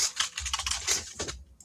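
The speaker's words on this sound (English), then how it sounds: "That's a lot of violent typing." Rapid, hard computer keyboard typing in a dense burst of clicky keystrokes, close and fairly loud, trailing off into quiet at the end.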